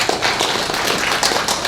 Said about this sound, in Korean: 자, 박수로 환영하세요.